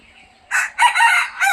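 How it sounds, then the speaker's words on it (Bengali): A rooster crows loudly and close by, a bright multi-part call in quick bursts. "এই যে দেখুন আমাদের বাড়ির মুরগা"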